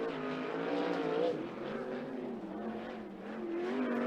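Sportsman sprint cars in 305 and Sportsman classes race around a dirt track, a loud continuous engine roar with rising and falling pitch as cars circle the bottom of the track, slightly off the throttle, with no talk.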